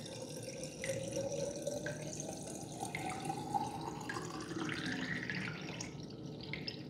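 Water from a tap flushes through a houseplant pot, a soft, steady trickling and gurgling that continues throughout at low volume.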